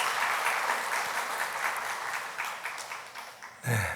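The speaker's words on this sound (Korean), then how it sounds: "여러분 한 번 더 큰 박수로 격려해 주시기 바랍니다" Applause from a congregation at a Sunday church service in Korea, steady and continuous for nearly four seconds, then a fresh loud burst of clapping near the end.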